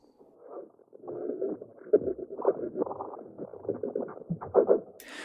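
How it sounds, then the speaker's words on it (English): An unprocessed looping sample of murky, granular, warbling texture, probably made with a grain delay effect. It churns in uneven bursts at moderate level and ends with a brief bright hiss, with no voices. "made with Ableton grain delay and then resampled in Beats mode"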